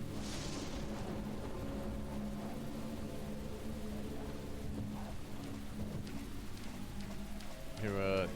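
Steady rain falls in the Deadly Premonition video game, a constant hiss under low rumbling and ambient game sound, with a brief rise in noise near the end; a voice talks over it.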